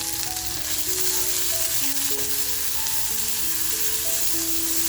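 Onion, green chili and coriander frying in a pan for prawn-stuffed squid, giving a loud, steady, close sizzle with faint stirring and no talking.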